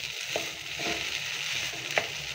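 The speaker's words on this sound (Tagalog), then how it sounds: "I-mix-mix ko pa para talagang mahalo yung kanin mabuti dun sa ginisa nating gulay at saka" Rice is stirred into sautéed vegetables and longganisa sausage in a hot pan, giving a steady close sizzle with occasional scraping clicks from the utensil and no talk.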